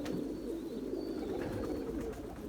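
Erzurum white pigeons coo steadily and close by as two males court a single female, a low continuous rolling murmur that carries through the whole stretch with no voices over it.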